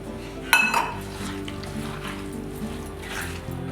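A metal spoon scrapes and clinks against a clay pot while prawn peera mixture is stirred with added water, one sharp clink near the start followed by softer scraping over a steady low background hum.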